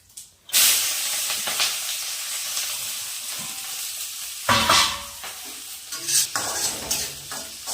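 Onion and capsicum fry with cumin in hot oil, a loud steady sizzle and hiss with stirring scrapes breaking through now and then.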